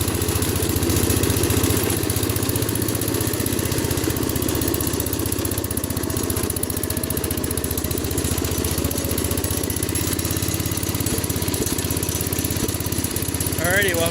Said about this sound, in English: It's been running a little rough the past couple of days.